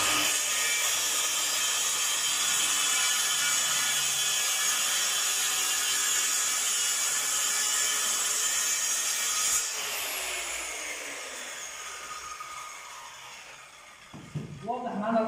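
A circular saw whines loudly through a wooden board, the steady high buzz dropping in pitch as the cut finishes and the blade winds down.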